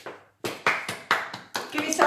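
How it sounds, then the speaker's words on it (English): A small group claps at a jitterbug stroll dance class: after a brief silence, a short run of about seven uneven, close claps. "Give yourselves a big round of applause, everybody."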